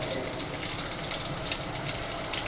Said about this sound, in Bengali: আমাদের মুরগির ফ্রাইটা হয়ে গেছে, মুরগি ভাজাটা